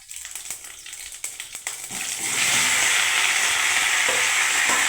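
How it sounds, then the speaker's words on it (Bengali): Mixed vegetables tipped into hot oil seasoned with panch phoron, a few clicks and scrapes first, then a loud, sudden rush of sizzling that settles into a strong steady hiss close at hand. "এবার আমি সমস্ত সবজিগুলোকে ঢেলে দিচ্ছি বন্ধুরা"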